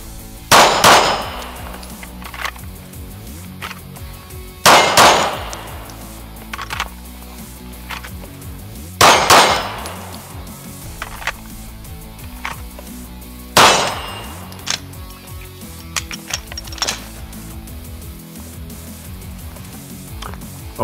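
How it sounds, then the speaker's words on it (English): Rifle shots during a special-forces trooper's firing drill ring out in four loud, widely spaced reports, each trailed by metallic clanks and handling noises, with no talk over them. "Soldier, load your gun. Fire at own will."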